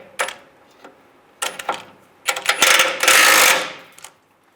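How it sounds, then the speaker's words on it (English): A ratchet with a 21mm socket clicks through a few short strokes and then a longer run while removing bracket nuts and bolts on a 2007-2013 Chevy Silverado, close and loud with brief gaps. "We have to take these 2 bolts out on each side, the nuts and bolts, using a 21 millimeter wrench on the back side and a 21 millimeter socket."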